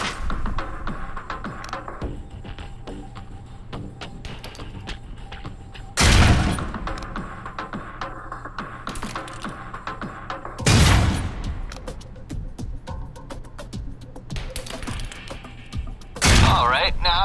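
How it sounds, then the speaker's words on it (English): Concussion grenades exploding in the video game Alpha Protocol during a training exercise, three loud bursts spaced several seconds apart over a steady game background with speech. "Grenades. Let's see that arm of yours. Go on. Start chucking them. They're concussion rounds"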